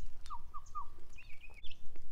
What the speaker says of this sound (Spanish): Ahí está Eridania hablando con los pajaritos.